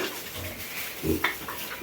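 Five-week-old piglets grunt in short, low bursts, a few close snorts and squeals scattered over about two seconds of quiet pen ambience.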